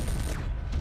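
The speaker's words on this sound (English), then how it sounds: "I love the autocannons in this game" Autocannon fire in the video game MechWarrior 3, a rapid burst of heavy thudding shots in quick succession, short and punchy with a low booming body.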